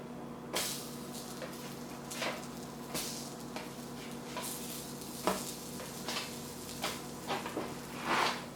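Food frying in a pan during home cooking, a steady soft sizzle throughout with intermittent scraping and clinking of a utensil, close and without talk.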